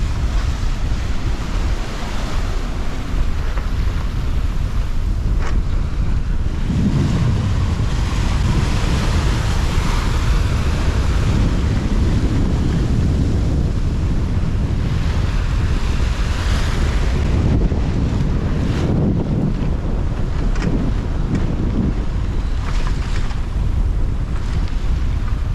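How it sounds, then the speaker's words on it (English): Ocean waves wash and break around a sailboat under sail off New Zealand, while strong wind buffets the microphone in a constant roar. Rushes of water surge repeatedly, close and loud, with no voices. "Some of these waves are short, steep and overturning."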